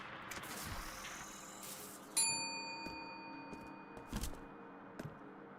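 Church bell ringing inside a video game, a single bright clang that rings on and fades amid scattered softer knocks and clicks.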